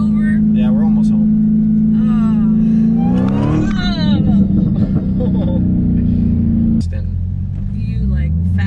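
An 800 hp Dodge Hellcat engine droning loud and close from inside the car, rising as it accelerates, with people talking and exclaiming over the steady roar.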